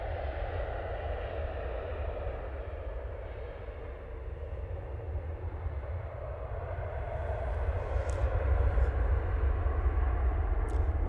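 A Ryanair jet landing on runway 05 left at Manchester Airport with full reverse thrust, a loud continuous low roar that swells toward the end, heard from a distance outdoors with no talking.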